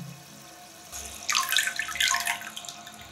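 Toilet tank refilling with water, a quiet hiss that swells into louder rushing and gurgling after the first second, then fades toward its level, no talking.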